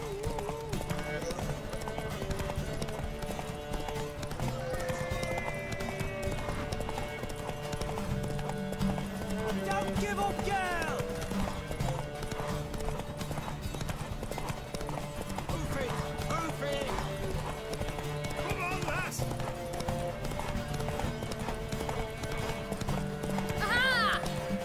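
A horse gallops in The Witcher 3: Wild Hunt during a race, with rhythmic clip-clop hoofbeats and occasional whinnies over game music, while characters talk throughout.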